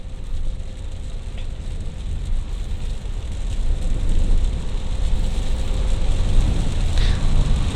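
Steady rain and road rumble inside a car cruising the Binjai–Kualanamu toll road in wet weather, a dense broadband wash of tyre hiss and drumming that swells slightly midway, with no talk.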